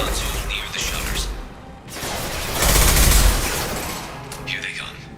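Concussive shot fired in the Mass Effect 2 Legendary Edition shooter during a firefight: a loud, booming burst that swells and fades amid ongoing gunfire and combat noise, with voices in the mix.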